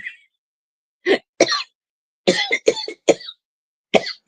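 A person coughs repeatedly and close by in short bursts, some doubled, with quiet gaps between them.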